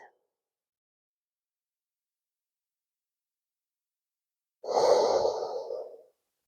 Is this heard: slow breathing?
yes